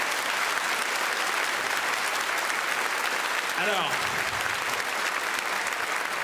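Studio audience applauding a guest on a French New Year's Eve variety show, steady sustained clapping filling the whole stretch, with a brief spoken word over it.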